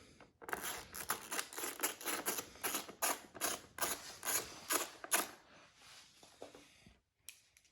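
A ratchet wrench drives fasteners back onto a Suzuki DR-Z400SM motorcycle during a build. The close, crisp clicking comes in rapid rhythmic bursts, then trails off into a few scattered clicks and silence.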